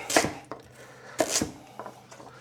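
Knife chopping ingredients on a board while preparing homemade chicken liver pâté, heard as a few sharp, close cuts spaced irregularly with quiet pauses between them.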